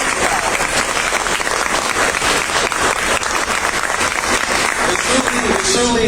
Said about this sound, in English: round of applause to everybody who got up here, to everybody who gets up here.